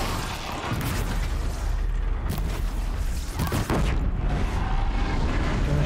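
A machine's bellow tank explodes in Horizon Zero Dawn, a dense roaring blast with booming rumble and crackling debris that fills the whole stretch at high loudness.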